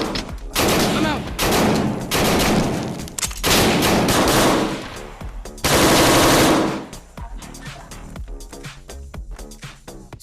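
Loud bursts of rapid automatic gunfire during a tactical breaching drill, several long sustained volleys overlapping one another, then thinning into scattered shots and clatter.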